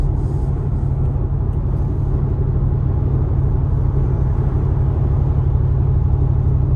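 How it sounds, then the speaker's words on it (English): A 2021 Brabus WideStar Mercedes-Benz G550 on 24-inch wheels rumbles low and steady while coasting in ninth gear down the interstate, a constant close drone with no voices. "And a nice rumble when you're in that 9th gear, kind of coasting down the interstate."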